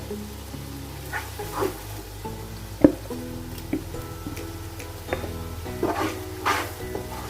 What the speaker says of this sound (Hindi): और इसको हम अच्छे से फ्राई कर लेंगे।